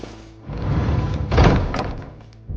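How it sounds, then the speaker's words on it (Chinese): A door is pushed shut with one heavy thud, standing out against a low background rumble. "把门关上"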